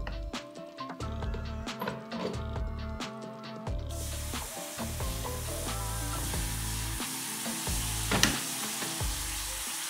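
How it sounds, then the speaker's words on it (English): Kimchi, onions and Spam stir-fry in a single pan for Korean kimchi fried rice, a steady loud sizzle with repeated scraping stir strokes and a brighter hiss surge partway through. "after we stir fry this for 2 minutes, we're gonna put the cover back on and we're gonna let this fry for another 2 minutes"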